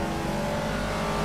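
A race car engine in Project Cars holds a steady, buzzing high-revving whine with a dense layer of harmonics, continuous and fairly close, with no voices over it.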